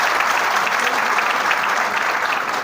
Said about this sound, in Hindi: तो एक बार आप लोगों के लिए जोरदार तालियां।